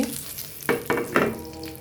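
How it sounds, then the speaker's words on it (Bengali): A hilsa fish head frying in oil in a home kitchen, a soft sizzle broken by three sharp, louder bursts of spatter or stirring in quick succession. "এই যে আমি এখানে ইলিশ মাছের মাথাটা ভেজে নিচ্ছি"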